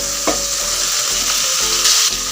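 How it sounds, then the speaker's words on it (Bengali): Fried potatoes go into a pan of cooked-down masala for an egg and brinjal curry, sizzling steadily in oil while a spoon stirs and scrapes through them in a few soft strokes. "এখন আমি এর মধ্যে দিয়ে দেবো ভেজে রাখা আলু"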